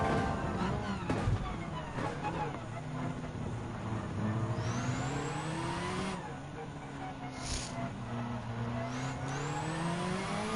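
Rally car engine in the video game Gran Turismo 7 during a weekly challenge race, a steady droning roar that climbs in pitch and drops as gears shift up, with several rising sweeps over continuous road noise.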